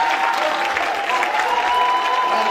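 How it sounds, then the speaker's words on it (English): Audience applause at a Haitian Heritage Month celebration in Miramar, Florida, a dense, steady roar of many hands clapping throughout, loud and close. "Give him a great round of applause, folks."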